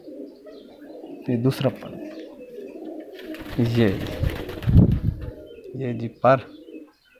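Domestic Mianwali Loha breed pigeons, flying pigeons kept in hot weather, give repeated low cooing calls in several bursts close by, while someone talks over them.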